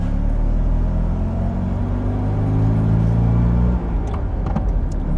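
A 1970 Fiat 500F engine runs in Manchester traffic with a loud, steady low rumble and buzzing drone that drops in pitch slightly toward the end, close and continuous.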